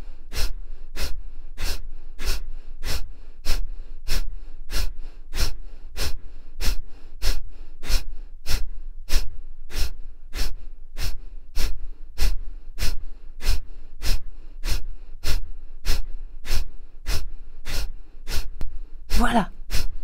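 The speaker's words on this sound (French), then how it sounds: "Les petits jets d'expire doivent être bien secs." Short, sharp forceful exhalations through the nose repeat in a steady fast rhythm during a yoga breathing exercise, about forty bursts close to the mic with no talking between them.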